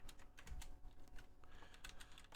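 Typing on a computer keyboard beside an IBM PS/2 computer, quick irregular key clicks in bursts, close but quiet, with no talk.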